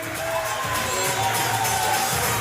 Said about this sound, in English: one more round of applause for participating